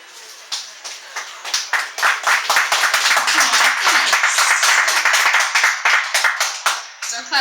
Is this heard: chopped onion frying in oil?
no